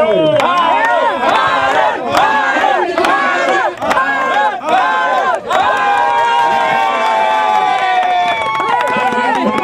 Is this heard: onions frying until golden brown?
no